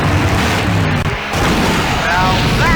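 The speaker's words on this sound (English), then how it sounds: "Now that's an explosion, ladies and gentlemen." A big explosion in the 1990s DOS video game Full Throttle, a dense continuous roaring blast with rumble and debris filling the whole stretch, loud and close, with faint voices underneath.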